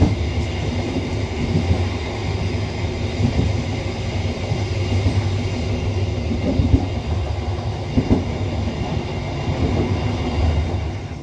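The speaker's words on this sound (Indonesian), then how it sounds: "Kereta api Serayu malam saat ini masuk di stasiun Leles, ini masuk di jalur 2 spur belok ya" The Serayu Malam passenger train rolls into Leles station with a loud, continuous rumble and rattle of wagons, clattering wheels and occasional metallic clanks close by.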